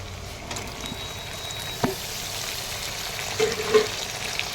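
Tomatoes fry with a soft, steady sizzle in a pan for chicken curry, joined by a few light clicks and one brief knock.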